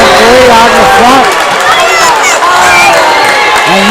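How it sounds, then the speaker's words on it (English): A basketball crowd at a high school game between Independence and St. Helena roars and cheers loudly and steadily, many voices shouting together in a packed gym. "And you can hear the crowd."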